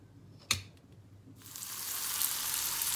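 Turkish spiced kofte patties land in an oiled frying pan after a sharp knock, then a bright sizzle swells and holds steady, close and moderately loud with no talking.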